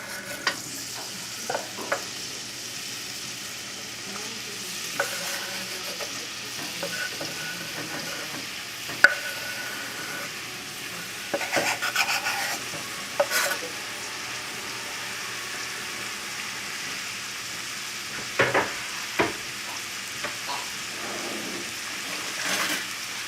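Vegetables sautéing in olive oil in a pot, a soft steady sizzle with occasional louder clanks and scrapes of stirring, fairly quiet and without voices.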